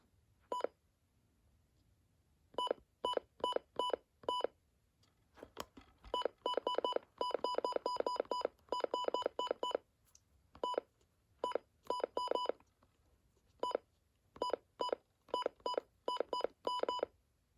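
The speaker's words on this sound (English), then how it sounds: "I don't know why it's doing a double beep sometimes." Short electronic button beeps from a Midland WR300 weather radio in quick bursts, single and double tones, repeating in irregular clusters with quiet gaps between, close and clear.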